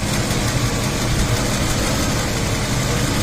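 A 1987 Mercedes-Benz 560SEL engine idles in a steady, even hum as it warms up while a heater problem is checked, heard close and unchanging throughout.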